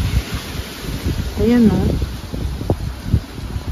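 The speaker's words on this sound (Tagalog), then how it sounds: "Lakas ng hangin, guys." Strong wind gusts outdoors on a hike in Mont Avic Natural Park, a steady broadband rush with rustling, close to the microphone, while people talk over it.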